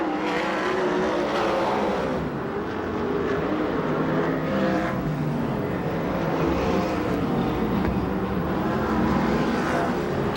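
USAC/CRA sprint cars race a heat at Perris, California, their engines roaring continuously at full throttle as the field circles the track, with rising and falling surges as cars pass, loud and close.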